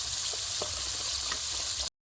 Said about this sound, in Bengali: বাটা মশলার ক্ষেত্রে একটু সময় লাগে তবে হালকা আছে কিছু সময় এটাকে আমি ভেজে নেব